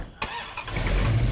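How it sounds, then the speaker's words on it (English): Car engine starting in the video game State of Decay 2: a sharp click, then the starter cranking, then the engine catching and settling into a loud, rumbling low idle that grows fuller toward the end. "Oh man, this car sounds awesome."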